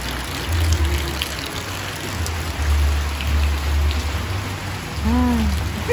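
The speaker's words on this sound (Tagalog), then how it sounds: "hindi na po tumila yung ulan" Steady rain falls in a dense, even hiss across the whole stretch, with a low rumble beneath and a brief tonal chirp near the end.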